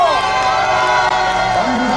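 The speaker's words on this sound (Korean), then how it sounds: "여러분 더 뜨거운 박수로 모셔주십시오" At a Korean election campaign rally, a crowd gives loud, continuous applause and cheering to welcome surviving independence activists, with shouting voices mixed into the dense ovation.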